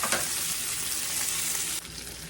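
Ham hocks frying in hot grease in a pan give off a steady, loud crackling sizzle that continues without a break, easing slightly near the end, with no voices.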